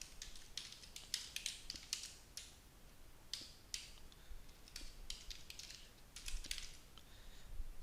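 A computer keyboard clatters with quick bursts of light, crisp keystrokes and short pauses between them, fairly faint and close, with no voices.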